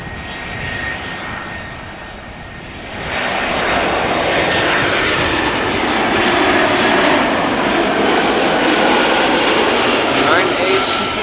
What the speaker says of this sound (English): Next up will be Croatia Airlines, flight 450, arriving from Zagreb, A319